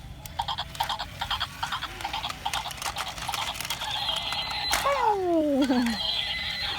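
A horse gives a loud, close whinny that falls in pitch over about a second, preceded by light rhythmic patter and clip-clop-like sounds, with no talking over it.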